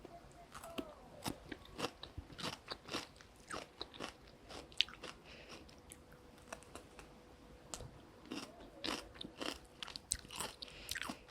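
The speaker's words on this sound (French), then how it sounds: "On va goûter le poivron." Bites of raw bell pepper eaten up close at a French ASMR tasting of aperitif snacks, a run of crisp crunches and wet chewing clicks in irregular rhythm, soft and intimate against a quiet background.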